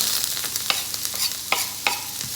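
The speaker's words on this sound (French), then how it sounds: "Je fais revenir mes oignons." Onions sautéing in oil in a frying pan hiss steadily up close, while a utensil stirs and scrapes in a few quick strokes.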